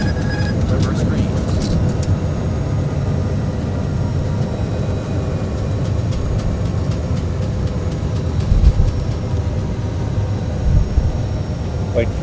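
Reverse thrust on a JAR Airbus A320 after touchdown in a flight simulator, a steady heavy engine roar that persists throughout, with people talking over it.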